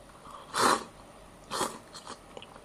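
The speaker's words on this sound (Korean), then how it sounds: "자, 쌀국수 ASMR." Vietnamese cup rice noodles being eaten up close, two distinct bursts of slurping and chewing separated by quiet, with faint smaller mouth sounds after.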